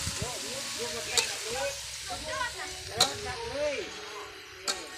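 Fish sizzles and crackles in a hot pan beneath steady talking, with a few sharp pops cutting through.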